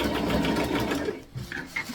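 A sewing machine stitches tutu fabric for a Barbie outfit, its motor whirring in a steady rapid run that stops abruptly, followed by a couple of short mechanical clicks.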